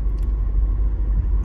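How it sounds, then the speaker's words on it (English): Steady low rumble of a car being driven on the road, heard from inside the cabin, continuous and fairly loud with no talking. "So I'm driving to the nail salon now"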